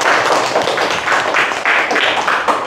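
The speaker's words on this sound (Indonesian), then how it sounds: "Tepuk tangan dulu." Students in a classroom clap together in quick applause for a classmate's good question, a brisk burst of overlapping handclaps heard close throughout.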